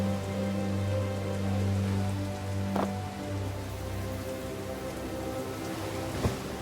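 Rain falling in the video game The Dark Eye: Chains of Satinav, a steady hiss of rain on surfaces with low droning tones underneath, plus a couple of brief sharp drips or ticks, with no voices.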